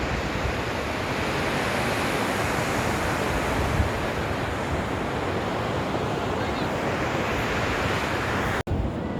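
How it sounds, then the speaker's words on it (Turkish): Ocean waves and surf rushing onto the shore at Nanaimo, Canada, a continuous close wash of broadband noise with wind, steady throughout and no talk. "Normalde burada çok daha büyük dalgalar"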